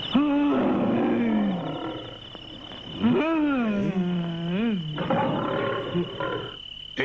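A person in an anime imitates a lion's roar with a loud, close series of long, wavering growling roars that rise and fall, separated by short pauses.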